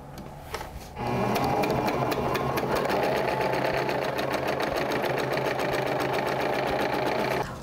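A sewing machine stitching hair wefts runs at a fast, steady rhythm after a brief quiet start, its rapid needle clatter loud and close with no speech over it.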